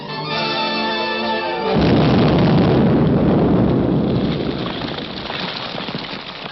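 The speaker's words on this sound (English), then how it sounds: "That explosion got Grogan, too." A sudden loud blast erupts as a sound effect in an audio drama, cutting off a tonal passage and leaving a long, dense rumbling roar that slowly tapers away, with no voices.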